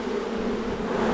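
A steady, dense buzzing of many honey bees, close and continuous with no voices.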